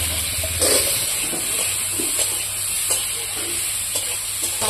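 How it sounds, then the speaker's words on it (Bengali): Potatoes frying in a pan for fish curry with cumin, giving a loud, continuous close hiss and sizzle with occasional spatula scrapes. "আলুগুলো কষাবো সেই কারণে।"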